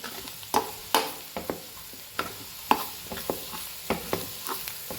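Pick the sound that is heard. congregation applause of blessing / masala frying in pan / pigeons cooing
masala frying in pan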